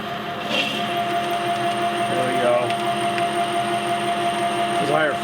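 Clausing metal lathe taking a cut at slower spindle speed and higher feed rate, a steady close mechanical whir with tonal hum and faint chatter, running continuously throughout.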